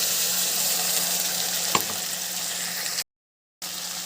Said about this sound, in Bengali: এবার দিয়ে দিচ্ছি আদা জিরে আর টমেটো পেস্ট